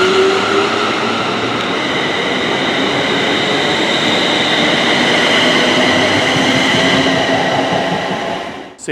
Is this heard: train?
yes